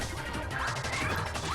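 A crystal enemy in Kirby 64: The Crystal Shards shatters in a loud, close burst of crashing, tinkling breakage that lasts over a second, with no talking.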